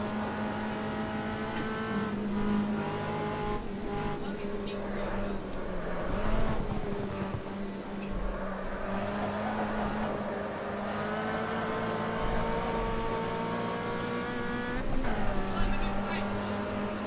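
Fiat Uno race cars in the Automobilista racing game corner at Tarumã, engines droning and shifting pitch as they slide through the bend, heard steadily beneath people talking.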